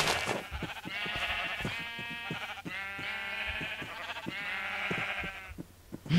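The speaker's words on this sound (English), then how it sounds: "Once he shears the sheep." Sheep bleating in the Minecraft video game, several wavering bleats in a row, close and fairly loud over soft background sounds.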